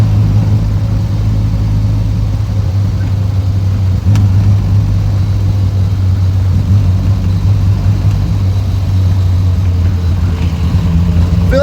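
A Triumph TR6 straight-six with a four-speed gearbox drones steadily while driving in traffic, a loud, continuous low engine hum from inside the car with no talking.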